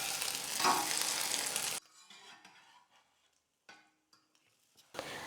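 Egg-coated snacks frying in a pan, a loud crackling sizzle that cuts off abruptly as the pieces are flipped, leaving faint clinks and quiet gaps before the sizzle returns at the end.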